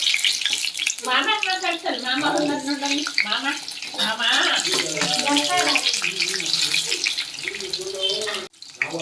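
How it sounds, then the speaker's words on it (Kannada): Stuffed brinjal bajji deep frying in hot oil, a steady loud bubbling sizzle that runs throughout, with someone talking over it. "ಇದನ್ನು ಈ ಥರ ಡೀಪ್ ಫ್ರೈ ಮಾಡಬೇಕು."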